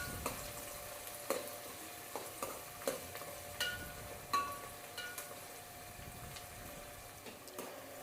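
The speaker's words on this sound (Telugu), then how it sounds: "ఈ ఉల్లిపాయ ముక్కలు కొంచెం బ్రౌన్ కలర్ వచ్చేదాకా వేయించుకోవాలి." Chopped onion pieces frying in a pan for an Andhra-style chicken pulao, giving a steady low sizzle with occasional stirring clicks and scrapes, close and fairly quiet, no talking.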